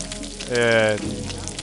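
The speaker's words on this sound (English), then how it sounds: "Well, I'm frying my meat." Meat fries over a fire in the video game Gothic, a short bright sizzling burst that swells and fades within about half a second, set against quiet game ambience.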